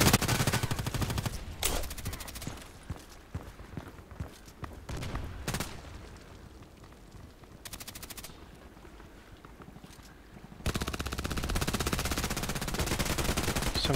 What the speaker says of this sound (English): Who is shooting through the boxes?